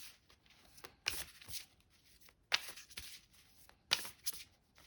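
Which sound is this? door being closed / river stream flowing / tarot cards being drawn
tarot cards being drawn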